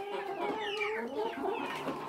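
Chickens clucking softly in a dirty henhouse, several hens overlapping in a steady, close, moderately loud chatter with no other sounds.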